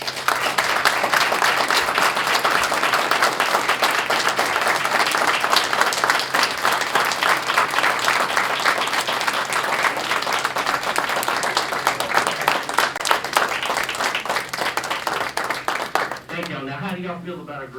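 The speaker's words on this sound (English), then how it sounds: "Let's give these student athletes and their families a round of applause." Long, steady round of applause from a school board meeting audience honoring student athletes and their families, dense clapping lasting around sixteen seconds before fading out as a voice starts talking.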